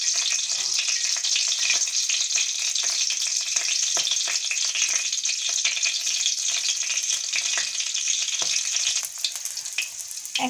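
Black cumin seeds hit hot oil for tempering in a Bengali village kitchen, producing a bright, continuous sizzle with scattered crackles and pops, fairly close and steady throughout, no talking.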